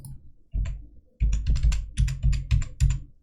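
Keys on a computer keyboard tapped in quick bursts while a password is entered during a PostgreSQL database server install on Windows 10, close and fairly loud, with short pauses between clusters of keystrokes.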